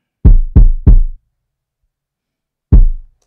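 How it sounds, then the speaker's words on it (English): Loud, heavy knocks in a quick group of three, then a pause and one more, booming and close with deep low thuds like a police knock on a door, heard alone in silence. "Sounds like a police knock."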